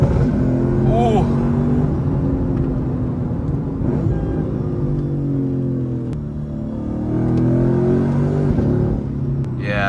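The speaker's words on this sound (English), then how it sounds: "Downshifts are snappy." Lexus IS F with a newly fitted exhaust, engine note rising and falling through quick downshifts with rev blips, loud and close from inside the car, with occasional talk over it.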